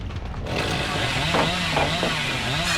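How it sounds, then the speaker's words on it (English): A chainsaw revs steadily and loud in Dead by Daylight, a continuous buzzing engine drone with slight surges in pitch, heard close and alone. "I'm supposed to be able to chainsaw through that."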